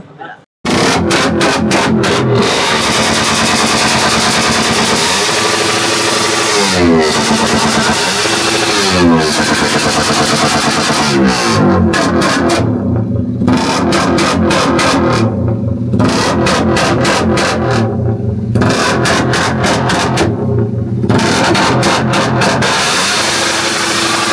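A Suzuki Raider 150 RFI motorcycle engine revs hard and very loudly at close range, sharp throttle blips and sustained high-rev roars with crackling breaks between pulls, continuous for over twenty seconds.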